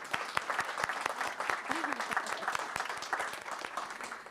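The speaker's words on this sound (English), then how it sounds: "another big round of applause" A crowd claps steadily, a fairly soft, even round of applause that continues throughout, with a brief voice rising under it.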